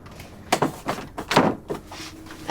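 A locked bedroom door is tried in an apartment: several knocks and rattling thuds at an uneven rhythm, close by, with a short pause between bursts.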